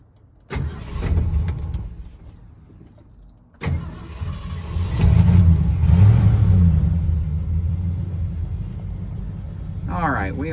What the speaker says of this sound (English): The engine just purrs. The engine runs very nice.